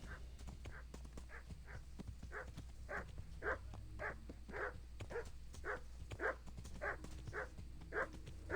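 Dogs barking in the medieval role-playing game Kingdom Come: Deliverance, a steady run of about fourteen evenly spaced barks at moderate distance over low ambient game sound.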